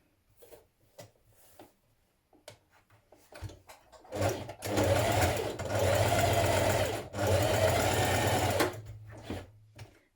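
A sewing machine stitches a knit dress bodice tie at a 3/8-inch seam, with two close, steady runs of rapid mechanical whirring separated by a short pause, and light handling clicks before and after.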